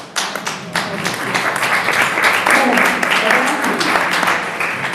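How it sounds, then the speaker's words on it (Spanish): Sustained audience applause fills a hall during a talk about the Quinta de Torre Arias in Madrid, dense broadband clapping that swells and holds steady throughout, with a few sharper individual claps near the start. "Pero no estaba preparada para los aplausos"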